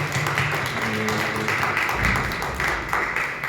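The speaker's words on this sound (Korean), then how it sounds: "예배를 마친 하나님께 영광의 박수 올려드리겠습니다" A church congregation claps together after a Christmas Sunday morning worship service, steady close applause with a few voices mixed in.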